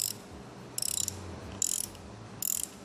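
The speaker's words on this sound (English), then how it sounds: "I'm going to put the bolt in a vise and ratchet it down right to that corrosion line I was talking about earlier." A ratchet wrench turns a bolt clamped in a vise on a sway bar quick disconnect, three short bursts of rapid clicking spaced apart, close and crisp with no talking.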